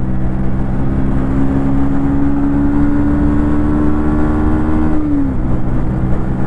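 A 2024 Bajaj Pulsar NS125 motorcycle being ridden, its engine droning loud and steady with a gradually rising whine that drops off near the end, no speech.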